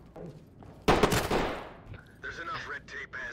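A short burst of gunfire in the tactical shooter Ready Or Not during a hospital raid, a sharp loud volley followed by a voice speaking.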